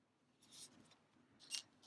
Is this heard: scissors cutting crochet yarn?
yes